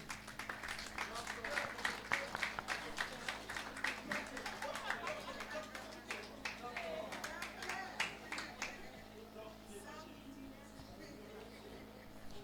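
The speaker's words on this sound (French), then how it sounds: "Acclamez pour lui pendant qu'il vient." Audience at a Foundation School ceremony clapping steadily as a person walks forward, a dense run of handclaps with crowd murmur underneath that thins out toward the end.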